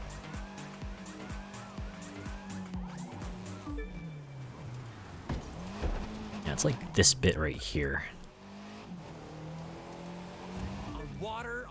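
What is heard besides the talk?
video game car tires screeching, spinning out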